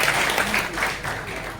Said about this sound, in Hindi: एक बार बहुत जोरदार तालियों से हम वेलकम करेंगे।